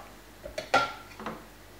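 Metal utensil clinks and scrapes against a soup pot while pasta is stirred in a spiced noodle soup, a few short, quiet knocks close by.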